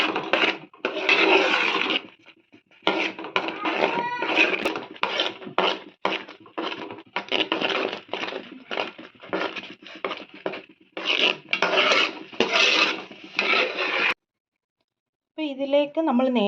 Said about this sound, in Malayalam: ഈ ചക്ക ഇങ്ങനെ ഈ ഉരുളീൻ്റെ അകത്ത് കുറച്ച് നേരം ഇങ്ങനെ നന്നായിട്ട് ഇളക്കി കൊടുക്കണം